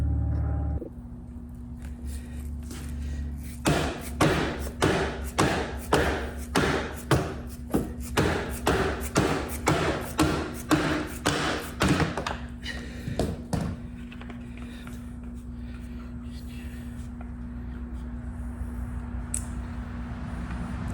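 A run of about twenty sharp metallic thumps and taps from a pry bar working under a 2011 Cadillac Escalade near the power running board motor, coming in quick irregular bursts over a steady low hum, then the striking stops.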